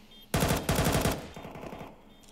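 Automatic weapon fire in the video game Counter-Strike 2: a loud, fast burst of rapid shots that starts abruptly, then a second stretch of quieter, fading fire, with no voices.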